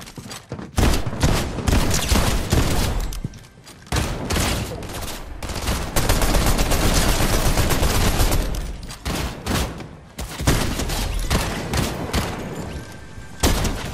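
Dense, rapid video-game gunfire from several shooters, with bursts of automatic fire and sharp shots running almost continuously and loud throughout, with a few brief lulls.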